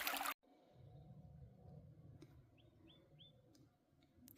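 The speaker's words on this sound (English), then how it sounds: "I can hear a red-winged blackbird." A faint red-winged blackbird calls three times in quick succession outdoors at Henry Coe, short rising notes over a low steady background rumble after an abrupt loud burst at the start.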